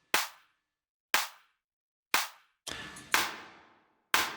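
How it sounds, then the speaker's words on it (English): Single hand claps sent through a Sonible Smart Reverb plugin ring out four times at roughly one-second intervals, each a sharp crack trailing into a short metallic tail, with one longer, denser wash of reverb in the middle. "Let's see what happens when we put a simple clap through the reverb."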